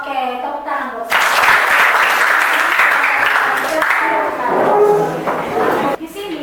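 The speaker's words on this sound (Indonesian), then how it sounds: "Oke, tepuk tangan buat saya." An audience breaks into loud, sustained applause after a short stretch of talk, the clapping holding steady for about five seconds before it stops abruptly.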